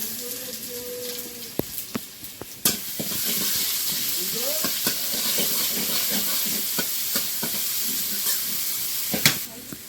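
Oil sizzles loudly in a wok after a sudden start as dried chillies and cumin fry, a steady frying hiss broken by occasional clinks of a utensil stirring.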